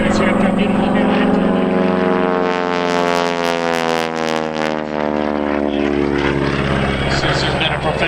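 A propeller airplane performing at the Northern Illinois Airshow with its prop spinning at about 2,400 RPM, a loud, sustained engine and propeller roar whose pitch sweeps as it passes, with an announcer talking over it.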